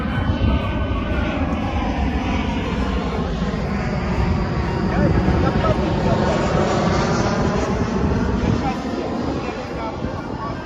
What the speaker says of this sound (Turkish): Bak bak Elif tekrar kocaman uçak geliyor bak.